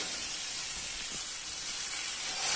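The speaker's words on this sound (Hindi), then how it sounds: "अब इसे अच्छे से फ्राई कर लेती हूँ।" Boiled potato frying in a pan gives off a steady, even hiss of sizzling oil, moderately loud and unbroken from start to finish with no voices over it.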